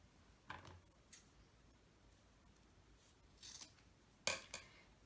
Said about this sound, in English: I'm just going to cut this.